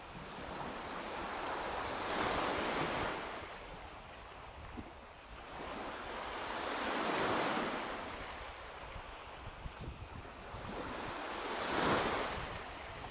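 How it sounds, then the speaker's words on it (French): Ocean waves breaking at the seashore in slow, steady surges, about three broad swells rising and falling, with wind rushing across the microphone and no voices. "Laissez-vous bercer par les vagues."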